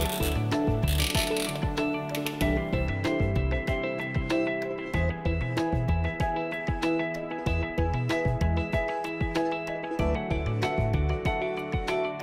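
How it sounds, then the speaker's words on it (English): Cable ties being tightened while securing a computer to a photo booth chassis mount, giving a fast, dense, continuous ratcheting clatter that is loud and close throughout. "Join the cable ties and tighten to secure."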